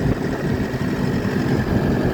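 A New Holland tractor engine runs steadily nearby on a farm worksite in Israel, a dense low rumble that holds without a break and carries no talk over it.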